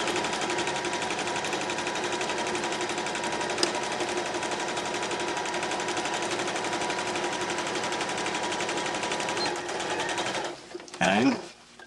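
A sewing machine runs continuously and rapidly, stitching a back stitch on a fabric bag with a dense mechanical whirr, stopping near the end with a few handling clatters; someone talks over it.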